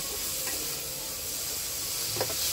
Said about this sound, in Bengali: এইভাবে মাছটা ভেজে নিলাম